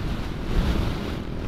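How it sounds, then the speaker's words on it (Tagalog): Strong wind buffets the microphone of a rider on a Honda motorcycle travelling from Vigan City to Pamplona, Cagayan, in the Philippines, a dense steady roar with heavy low rumble throughout and no voices. "Lakas ng hangin."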